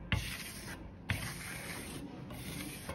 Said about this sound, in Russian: Кельмочкой приглаживаете излишние всякие наплывы.